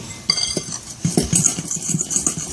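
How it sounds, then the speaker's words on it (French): Flour and semolina mixed together in a bowl for Moroccan matbout bread, close scraping and knocking strokes of a utensil against the bowl in an irregular rhythm, with a clink at the start. "donc bien mélanger la préparation."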